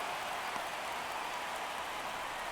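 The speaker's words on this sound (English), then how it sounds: "As the rain continues to pelt this field" Steady rain pelting an open baseball field during a Reds–Dodgers playoff game, a dense, even hiss of drops throughout with no voices over it.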